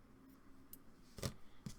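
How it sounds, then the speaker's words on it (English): Scissors snip yarn ends on a crocheted wallflower piece: two close, crisp cuts about half a second apart after faint handling noise, quiet and without talk. "we can snip our ends"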